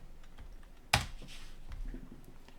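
A single crisp keypress on a computer keyboard while working in CAD software, one sharp tap against a faint, quiet room background, with a few softer clicks afterward.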